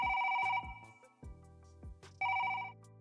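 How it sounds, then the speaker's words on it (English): A telephone bell rings in two bright, insistent bursts, one at the start and one near the end, over low thudding music in a contract-killer setting. "And the phone keeps ringing."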